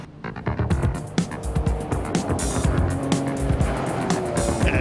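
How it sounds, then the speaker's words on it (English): A late classic rally car on a tarmac stage of the Targa Tasmania event, its engine roaring loudly and close with repeated tire squeals and skidding as it drives hard, no voices. "Driving late classic car 577."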